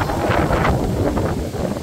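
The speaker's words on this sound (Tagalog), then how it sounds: "Lakas talaga ng hangin." Strong storm wind roars and buffets the microphone in a steady, loud rumble with gusty fluctuations, no voices.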